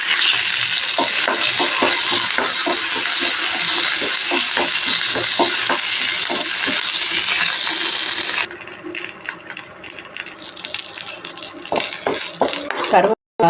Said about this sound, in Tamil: கொஞ்சம் ஆயில் ஊற்றிக்கலாம் கருவேப்பிலை இதில் வறுத்துக்கலாம்